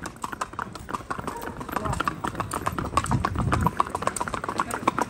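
Horse hooves clip-clop at a steady walking rhythm during a long countryside horseback ride, each hoofbeat crisp and close, over constant rustling and background noise.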